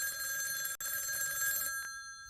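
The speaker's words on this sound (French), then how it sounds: "La sonnerie du téléphone interrompt les 4 camarades." A telephone bell rings with a steady electric trill, fairly close and alone, then cuts off briefly and resumes before fading.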